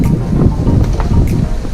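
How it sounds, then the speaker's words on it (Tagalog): Gusty wind buffets the microphone with low rumbling bursts, rising and falling throughout, loud and close. "So medyo mahangin siya ngayon."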